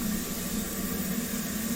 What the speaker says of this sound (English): So we'll start up our right engine